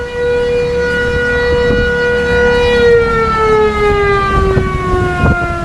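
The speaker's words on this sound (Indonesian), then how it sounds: "itu ada bunyi sirine karena memang di sini dekat bandara ya" Siren wailing near an airport in Merauke, Papua: a loud, continuous tone slowly falling in pitch, steady throughout with faint outdoor noise beneath.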